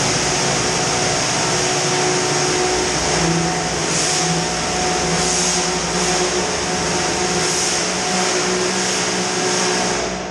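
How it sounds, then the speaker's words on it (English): A jet washer runs continuously inside a water tank being cleaned, giving a loud, steady motor drone and hiss with a slight ebb and swell of the spray. "let's get in there and see if we can get this jet washer going"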